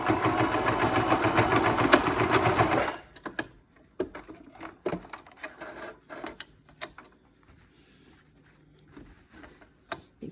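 A sewing machine runs in a steady fast whir for about three seconds while stitching the seam of a cloth face mask, then stops, leaving quiet handling clicks and fabric rustles.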